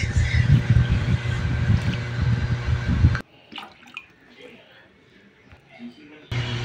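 A bucket of water poured into a cooking pot for sinigang, a loud rushing gush for about three seconds that cuts off abruptly, followed by quiet clinks and a brief return of noise.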